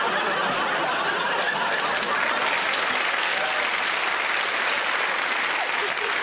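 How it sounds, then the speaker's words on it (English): Dense applause from a TV game show studio audience, loud and continuous throughout with scattered chuckles and laughter mixed in. "Don't applaud, it only makes him worse."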